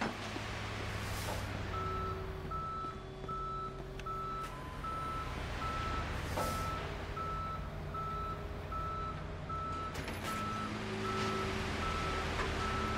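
A tow truck reversing in Police Simulator, giving a steady series of evenly spaced electronic beeps over a low engine rumble for the whole stretch, with a brief hiss of air brakes partway through and no talking.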